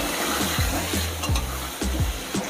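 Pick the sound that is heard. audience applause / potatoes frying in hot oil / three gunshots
potatoes frying in hot oil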